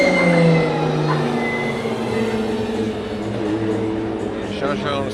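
A drift car's engine at a Drift Masters practice session in Riga drones loudly, its pitch sliding and wavering, while a commentator talks over it.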